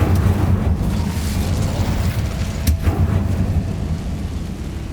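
Magic blasts from Bombarda and Incendio spells boom in Hogwarts Legacy, a loud, continuous rumbling roar with one sharp crackling burst near the middle.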